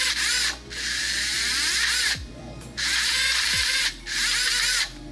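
Brushed motors on a beetleweight combat robot, driven through a 15-amp dual ESC, whir up in four short loud bursts separated by brief pauses, each a buzzing, drill-like whine heard close with no talk.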